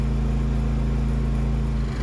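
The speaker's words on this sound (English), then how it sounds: "sorry about the generator noise" A generator running near an off-grid cabin in Alaska, a loud steady engine drone with a strong low hum that holds constant throughout.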